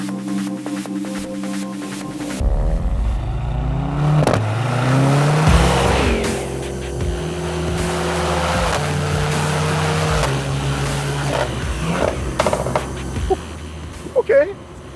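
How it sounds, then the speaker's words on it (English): A Mercedes-AMG C63 S hybrid with a 2-liter four-cylinder engine drives off, its engine rising and settling through steady acceleration with a broad rumble, while people talk over it inside the cabin. "Let's drive this car because it's the controversial one."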